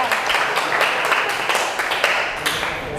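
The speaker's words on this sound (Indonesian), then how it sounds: "tepuk tangannya mana untuk saran dari Mas" Classroom of students clapping together for a classmate's suggestion, steady dense patter of hand claps at moderate loudness for about three seconds.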